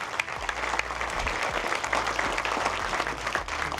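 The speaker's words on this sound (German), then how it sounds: "Ein kurzer Applaus für euch, bitte." A cinema audience at a premiere event gives a short round of steady applause, many hands clapping at once with a few louder nearby claps over the crowd.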